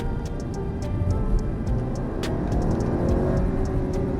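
A Mercedes GLA 250 engine downshifting gives a steady, loud, close rumble with a run of light ticking clicks over it.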